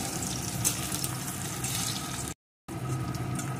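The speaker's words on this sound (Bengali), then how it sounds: "পেঁয়াজটা কিন্তু খুব বেশি লাল লাল করে ভাজার দরকার নেই।" Chopped onion frying in a pan, a continuous even sizzle with faint watery hiss, briefly cut to silence near the end before the same sizzling resumes.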